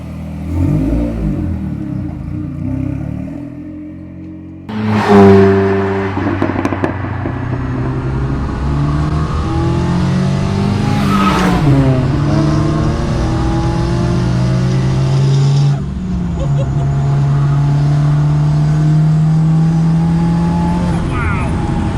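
A Volvo P1800 Cyan restomod with a touring car engine pulling away and accelerating through the gears, loud revving engine notes rising and falling with gear changes, close and prominent with some talk underneath.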